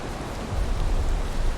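Steady rain in the video game Valheim hisses continuously, a dense wash of falling water with a slight swell midway, no voices over it.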